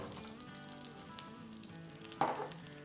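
Medium-cut potato pieces frying in hot oil in a handi pot, a steady soft sizzle with a sudden louder crackling burst near the end.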